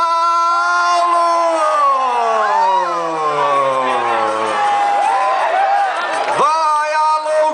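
Crowd at a hot-air balloon championship in Torres cheering and whooping for balloonist Marcos Paulo, loud rising and falling voices blending with shouts, close and continuous throughout.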